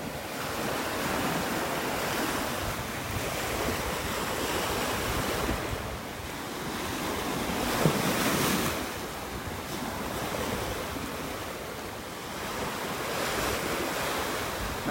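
Breezy morning wind at a beach in North Naples, Florida, a steady roar of gusts buffeting the microphone over surf washing in and out, full and continuous with no voices.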